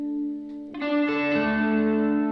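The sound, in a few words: guitar chord swell with reverb using Blooper and Microcosm pedals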